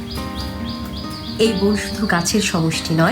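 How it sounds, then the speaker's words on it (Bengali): Birds in the Madhupur sal forest chirp in short, evenly repeated calls, soft and somewhat distant, while a voice narrates over them. "পাখির ডাক, বাতাসের শব্দ,"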